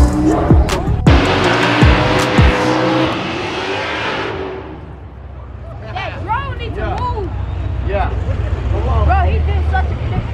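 Race cars roar past at a car meet's main event races. A loud engine wail fades away, and then several more cars rev and whine at a distance over crowd chatter and people talking.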